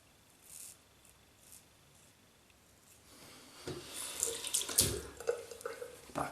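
Tap water runs into a sink during a wet shave with a British Gillette Ball End Tech double-edge razor, faint at first, then a louder steady splash and trickle with small splashes of hands in water, close and without talking.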